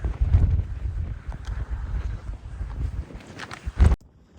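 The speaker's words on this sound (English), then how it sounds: "it is so windy" Strong coastal wind on the Seven Sisters cliffs near Eastbourne buffets the microphone in loud, uneven low rumbling gusts, cutting off abruptly near the end.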